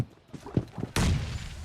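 A bomb explodes in a video game: a few soft thumps come first, then one sudden broad blast that trails off into a rumbling tail.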